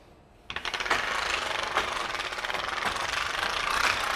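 A Windsor Wild caravan awning is rolled up, and a steady rattling, ratcheting mechanism runs close and moderately loud for about four seconds after a brief quiet start, with occasional sharper clicks.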